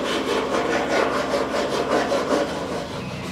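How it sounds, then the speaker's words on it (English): A hand file rounding over the edge of a metal box end, rhythmic rasping strokes back and forth at a steady pace, close and fairly loud, with no speech. "Just gonna use this file to put a little bit of radius on this edge here."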